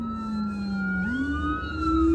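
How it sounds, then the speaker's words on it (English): An ambulance siren wails outside, loud and steady, its pitch sliding as it passes. "it's like there's a wreck or an ambulance is up here or something's going on."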